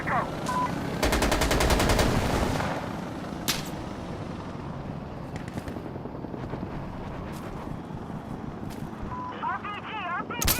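Gunfire in the video game Death Stranding Director's Cut, with a dense burst of rapid machine-gun fire followed by scattered single shots and electronic game tones, beneath continuous rumbling battle noise.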